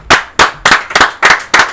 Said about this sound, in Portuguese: Aplausos, Babo.